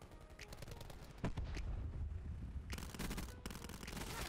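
Gunfire in a Call of Duty match comes as rapid automatic bursts over dense, noisy game sound, with a few scattered shots before a longer burst that pauses briefly and resumes.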